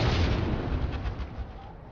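Rocket and mine explosions during an ATV battle in a video game, a dense rumbling series of booms and bursts that start loud and fade slightly over two seconds.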